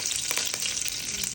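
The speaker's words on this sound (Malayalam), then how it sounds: "കടുക് പൊട്ടി വരുമ്പോൾ കുറച്ച് കറിവേപ്പില ഇട്ട് കൊടുക്കുക." Curry leaves and mustard seeds fry in hot coconut oil, giving a brief, steady close sizzle with a few crackles.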